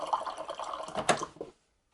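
Just under half a cup of water poured into banana date bread batter, a short close trickle and splash lasting about a second and a half, then falling silent, no talk.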